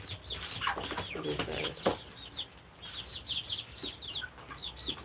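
Five-week-old poultry chickens on a small-scale farm cluck and chirp steadily nearby, with a voice speaking briefly over the birds.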